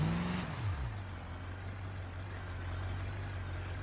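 A heavy truck in the BeamNG video game labors uphill while towing two vehicles, its low engine drone dropping in pitch after a brief shift, then holding a steady, strained rumble throughout.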